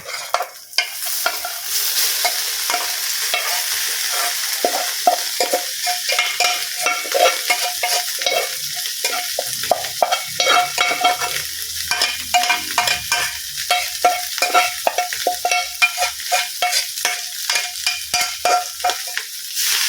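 Cold leftover rice is stir-fried with carrots in a hot pan, a continuous sizzle broken by repeated scraping and clattering from a spatula tossing the grains; close and busy, with no voices.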